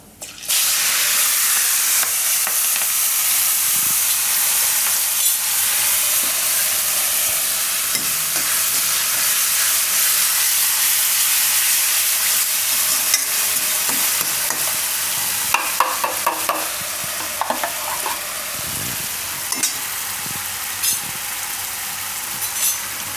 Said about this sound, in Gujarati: આમાં મરચાં નાખી દેવું